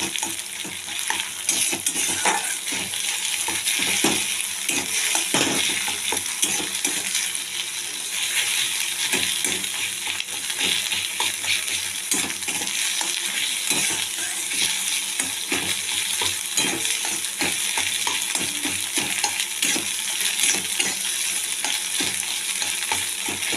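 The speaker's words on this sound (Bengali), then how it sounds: "ডিমটা এরকম ভেঙে ঝুড়ির মতো করে দিয়ে ভেজে নেব লাল লাল করে।" Egg and onion fry and sizzle in a pan, a loud continuous hiss broken by frequent scraping and clinking stirs of the spatula, with no talk.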